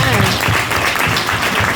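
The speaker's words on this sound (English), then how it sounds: "Give them a round of applause" A crowd at a Black Cultural Center graduation ceremony applauds, a continuous, fairly loud wash of clapping that holds steady throughout, with voices mixed in.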